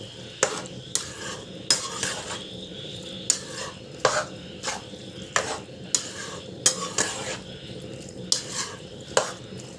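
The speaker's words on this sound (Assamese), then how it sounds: "এতিয়া অকণমান দেৰি ভাজিম এইখিনি।" Boiled chickpeas and masala being fried in a pan for chole, heard as steady stirring with repeated clinks of a spoon against the pan over a low sizzle; fairly close, with no talking.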